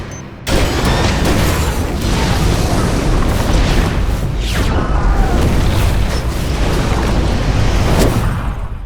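A truck bomb explosion in the Into the Badlands series, a sudden loud blast that rolls into a long, roaring wall of rumbling debris and crackling fire sustained for several seconds before easing off.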